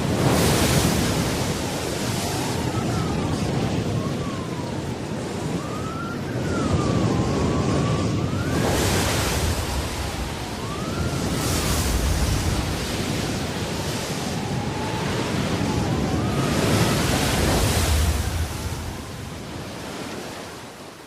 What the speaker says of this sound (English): Not merely a gale, but a full-force hurricane.